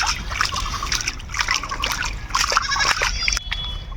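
Taro being washed by hand in water gives a steady trickling and sloshing with small splashes, close and continuous, with faint voices in the background.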